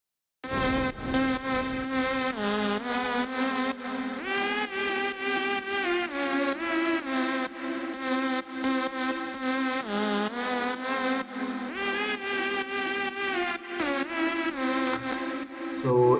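A trance lead layered from a Serum synth patch and a Santur plugin plays a busy, shimmering melody of rapid plucked and buzzing notes, loud and continuous, with the notes gliding up and down and no voices.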